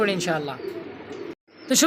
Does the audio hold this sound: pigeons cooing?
yes